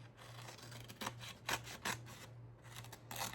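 Scissors cutting out a small craft piece for a vintage cottagecore bottle makeover: a handful of quiet, crisp snips up close, spaced unevenly with soft rustling between cuts.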